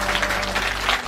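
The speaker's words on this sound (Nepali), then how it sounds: "हामी ताली बजाएर धन्यवाद दिन्छौँ उहाँलाई।" Wedding guests clap together in a burst of applause, a steady patter of many hands at moderate distance filling the whole brief moment with no voices over it.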